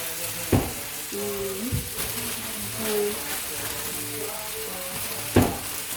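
Spinach leaves sweating down in a hot pan, giving a steady close sizzle with a few sharp stirring knocks and scrapes.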